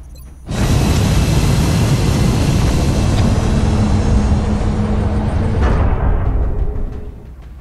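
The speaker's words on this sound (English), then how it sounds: "Dropship has arrived." A dropship in XCOM arriving with a loud, sustained roaring engine rush that starts abruptly, holds steady with a faint hum, then cuts off and fades, with no talking.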